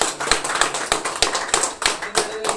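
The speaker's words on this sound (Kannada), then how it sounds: "ಎಲ್ಲರಿಗೂ ಕೂಡ ಜೋರಾದ ಚಪ್ಪಾಳೆ" An audience clapping loudly, a dense burst of sharp claps with strong uneven hits throughout, close and busy.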